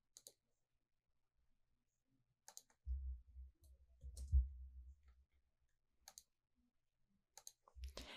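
A computer mouse clicks while a shape is drawn in AutoCAD, producing sparse, crisp clicks in small clusters spread across a quiet background, with a brief low thump partway through.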